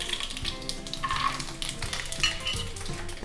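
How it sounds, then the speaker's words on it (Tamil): Peanuts and mustard seeds fry in hot oil in a pan with a busy, close sizzle. Crackles and light popping mix with clinks and scrapes of a spoon against the pan, and no one speaks. "வேர்க்கடலை நல்லா வறுபட்டுருது."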